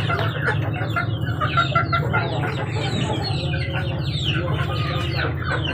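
Chicks and hens cluck and peep steadily at feeding time on a backyard farm, a dense continuous chorus of close birds with no talk over it.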